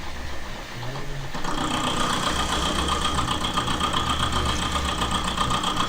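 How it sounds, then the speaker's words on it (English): A milling cutter on a 1949 Rover P3 part takes a light cut along the side face of a slot, giving a steady mid-pitched machine whir with a fine rhythmic chatter that starts after a brief lower hum and runs on continuously. "the milling cutter's just taking just a tiny little bit off that side face of the slot now"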